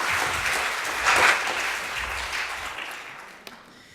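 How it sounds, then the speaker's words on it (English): Audience at a heritage tourism symposium in Queensland claps for several seconds, a moderately loud round of applause that tapers off toward the end, with no talk over it. "Round of applause."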